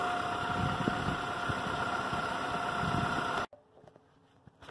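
A 1996 Toyota Camry with an EGR P0401 fault idles with a steady, close mechanical drone before the engine sound cuts off abruptly, leaving faint clicks and near silence.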